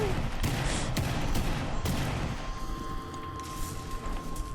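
AK12 rifle fire in a video game comes as dense rapid bursts of shots in a noisy, busy mix, loud and continuous through the first half before easing off into a quieter background.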